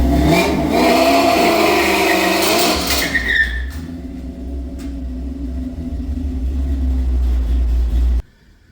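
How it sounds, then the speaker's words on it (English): A 1955 GMC truck does a burnout on a hard shop floor, with loud revving and tyre screech over deep rumble, then a sustained idle drone before the engine cuts off abruptly. "My shop floor is incredibly hard to do burnouts on"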